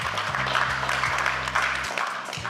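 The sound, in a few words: audience applause for keynote speaker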